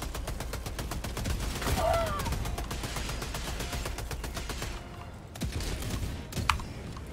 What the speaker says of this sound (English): Auto cannon sentry coming in.